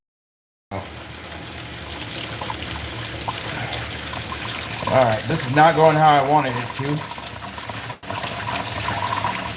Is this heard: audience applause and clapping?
no